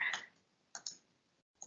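A computer mouse clicks a few times close up, sharp isolated taps with short pauses between them in otherwise quiet surroundings.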